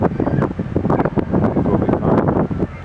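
Strong outdoor wind buffets the microphone in a steady, loud, low rumble with gusty surges throughout, and no voices can be heard.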